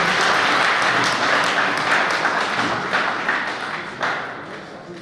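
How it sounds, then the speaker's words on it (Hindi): A hall audience at an all-India poetry gathering breaks into sustained applause to welcome a poet, dense clapping that gradually thins and fades over about five seconds, with faint voices mixed in. "मेरा मन है कि एक बार पूरा सदन जोरदार तालियों से उनका स्वागत करें"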